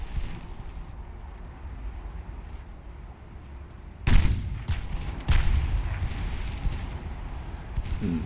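Heavy naval guns fire in Ultimate Admiral Dreadnoughts, the warship game with 6-inch guns, two deep booms a second apart rising out of a steady rumbling sea-and-wind background, loud and fairly close.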